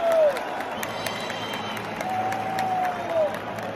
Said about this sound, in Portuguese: O time do Cruzeiro saindo, aplaudido pelo seu torcedor.